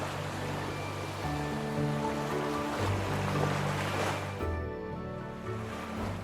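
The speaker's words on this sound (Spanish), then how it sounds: "donde las largas olas llegan de manera continua" Long ocean waves rolling continuously onto a wide sandy beach on the Peruvian coast near Paracas, a steady full wash of surf with a low roar and sustained music tones blended over it.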